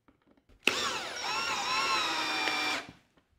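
A power drill drives a screw into a 3D-printed plastic bucket, a single close burst lasting about two seconds, whirring up in pitch and holding steady before stopping abruptly.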